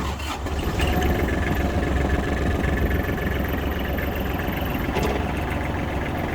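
A Kubota GL21 mini tractor engine with 748 engine hours catches and settles into a steady, close diesel idle, a low even chugging rumble with a brief knock near the end.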